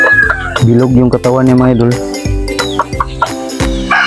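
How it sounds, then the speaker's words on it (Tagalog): Chickens cluck close by, loud and repeated, mixed in with someone speaking. "Malaking manok yan mga idol, pero magaan siya mga idol."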